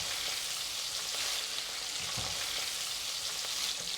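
Prawns crackle and hiss in a pan of hot deep-frying oil, a dense, continuous sizzle heard close up with no talk over it.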